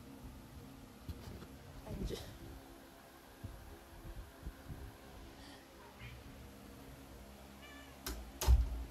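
A cat meows a few times at moderate distance over quiet room tone, with a louder sharp sound near the end.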